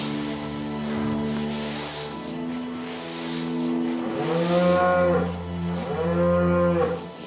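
Several cows moo loudly and close by on a farm, long low drawn-out calls overlapping one another, with no talking.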